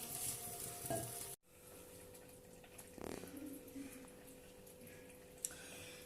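Chicken cooking in a yogurt sauce in a pot, a low steady sizzle and bubbling with a sudden break, then a faint stir or clink against the pan before simmering continues quietly.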